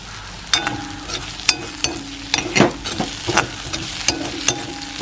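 Onions, pumpkin seeds and curry leaves frying in a pan for chammanthi, a continuous close sizzle broken by sharp scraping stirs of a spoon against the pan at irregular intervals.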